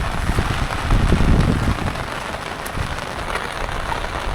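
Heavy rain pours down in a village, a dense steady hiss of drops drumming on surfaces, with rougher low gusts of strong wind in the first half, loud and close throughout.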